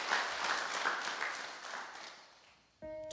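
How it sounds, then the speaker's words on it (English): An audience at a Sunday worship service applauds in a dense wash of claps that slowly tapers off, and then a musical tone cuts in. "Please give yourselves one more round of applause."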